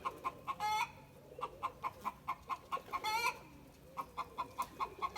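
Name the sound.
roosters and chickens clucking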